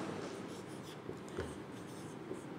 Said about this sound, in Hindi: जैसे कि हम कोई भी अक्षर लिखते हैं, शब्द लिखते हैं लड़का